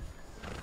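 A horse gives a brief, faint whinny lasting well under a second.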